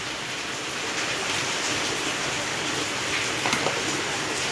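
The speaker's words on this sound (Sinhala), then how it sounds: "අද මම මේ වීඩියෝ එක කරන්නේ වැස්සේ." Steady rain hisses outdoors while a cabbage curry with coconut milk is being cooked, a broad, even wash of falling water with no other clear sounds standing out.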